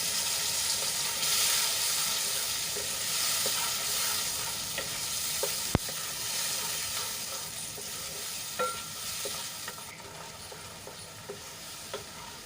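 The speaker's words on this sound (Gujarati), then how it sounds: "અને સરસ રીતે તેલમાં મિક્સ કરી લઈશું" Gravy is stirred into hot oil in a pan for a Gujarati vegetable curry, a continuous sizzle with frequent scraping spoon strokes and one sharp knock midway, close and fairly loud with no voices.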